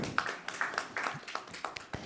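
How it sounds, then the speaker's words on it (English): Scattered, fairly faint hand claps from a small audience welcome a speaker at a panel event, about a dozen separate claps in a loose, uneven rhythm. "Let's give him a warm round of applause as we welcome him."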